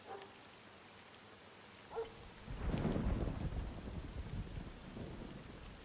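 Rain and a rolling rumble of thunder in the Dracula 3 video game, quiet at first, then a loud, sustained thunder roll swelling midway and lingering under steady rain.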